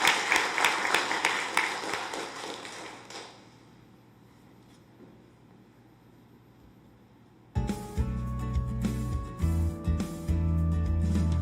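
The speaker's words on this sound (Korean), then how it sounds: "격려해 주시고 박수해 주시기 바랍니다" Applause from a church congregation during a Sunday worship service, a dense burst of clapping that fades to quiet, then another loud round of clapping starts and continues.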